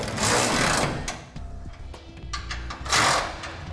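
Power tool snugging fifth wheel bracket bolts on a Ram truck, loud rattling bursts of rapid impacts at the start and near the end, with quieter clanking between them.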